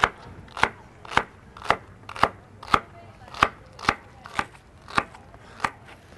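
A knife chops food on a cutting board into bite-sized pieces for a Waldorf salad, a dozen crisp, evenly spaced close thuds in a steady rhythm.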